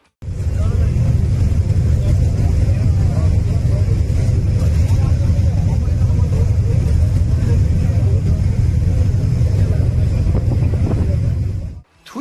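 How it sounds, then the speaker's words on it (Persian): A motorboat engine roars at high power, loud and close with a constant low rumble, holding steady for about eleven seconds before stopping abruptly. "از قایق سواری عباس شاورما که مثلا میخواد قدرت نمایی کنه"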